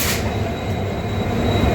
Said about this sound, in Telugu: సో ఇప్పుడు ట్రైన్ 80 కిలోమీటర్ నాన్ స్టాప్ పోతుంది.